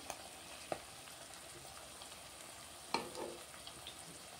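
Drumstick pieces half-fried in oil, a soft steady sizzle with a couple of sharp clinks as pieces are moved, faint and close with no talk.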